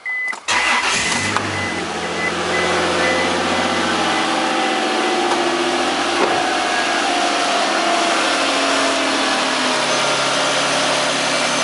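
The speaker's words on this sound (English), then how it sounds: "I'm going to start the engine." A 3.2-litre V6 engine in a 2002 Isuzu Rodeo LS cranks briefly, catches and roars up, then settles into a steady, loud idle that continues without any talking.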